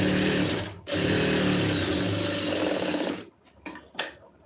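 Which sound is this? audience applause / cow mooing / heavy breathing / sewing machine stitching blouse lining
sewing machine stitching blouse lining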